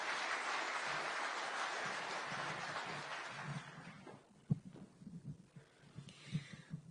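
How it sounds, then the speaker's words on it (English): An audience at a Nairobi call-centre launch applauds the US Ambassador to Kenya, a dense, fairly distant round of clapping that fades out after about four seconds and leaves faint scattered thumps. "allow me now to invite the United States Ambassador to Kenya, Her Excellency Meg Whitman, to make her remarks. A round of applause,"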